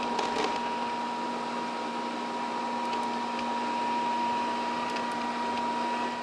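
A robot vacuum runs quietly with a steady low hum and a faint whine, along with a light brushing hiss and occasional small clicks, continuous throughout.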